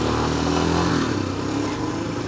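A Royal Enfield Himalayan adventure motorcycle's engine runs steadily and up close as the bike moves off, a continuous mid-pitched rumble with no talk over it.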